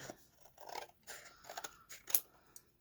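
Scissors trimming card paper for a greeting-card journal, heard as a few soft, close snips and crunches spread over a quiet few seconds, with one sharper cut near the end.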